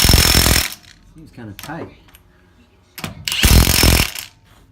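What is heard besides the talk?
impact wrench running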